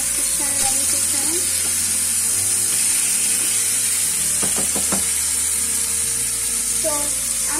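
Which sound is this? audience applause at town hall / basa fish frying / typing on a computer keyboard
basa fish frying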